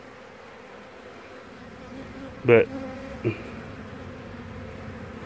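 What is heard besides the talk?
honey bee swarm buzzing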